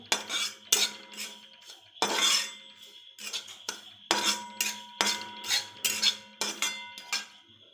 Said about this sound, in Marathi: त्यातच थोडंसं सुकं खोबरं जे आपण किसलेलं आहे ते टाकून ते पण भाजून घ्यायचे